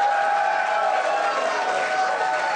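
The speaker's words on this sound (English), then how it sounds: "Red meat applause." Studio audience applause at a late-night political comedy show, a dense steady wash of clapping mixed with crowd noise, loud and sustained without a break.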